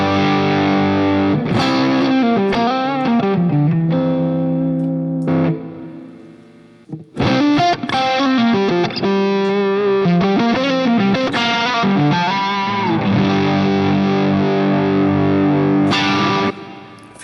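Electric guitar through the Carvin Legacy overdrive model in a Line 6 Helix, playing a bright, sustained 80s hair-metal lead line with bends and fast runs, loud and upfront, with a short pause midway.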